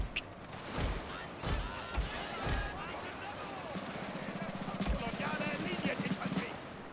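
Musket volleys crack out in Scramble for the Far East, with Prussian lines exchanging fire against the Coldstreams. Several heavy booming reports arrive at uneven intervals over a busy battlefield bed, with a steady buzzing drone underneath in the later part.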